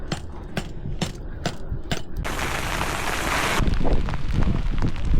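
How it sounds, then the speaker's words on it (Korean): Spring hail pelts a campsite during a sudden gusty storm, a dense, rattling barrage of hard impacts that swells into a roaring wash midway, then continues as close, uneven clatter. "봄에 우박이"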